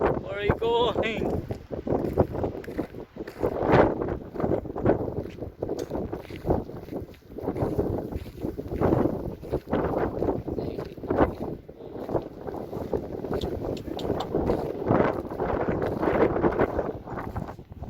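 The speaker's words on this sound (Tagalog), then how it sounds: "Ang hangin." Strong gusty wind buffets the microphone at Aldinga Beach, roaring in uneven surges throughout while people talk over it.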